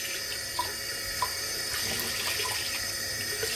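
Tap water runs steadily into a sink for a face rinse, a continuous close splashing hiss with small bubbling surges and no voices.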